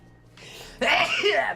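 A single sneeze bursts out loud and close, preceded by a brief inhale, during a playful spoken sketch.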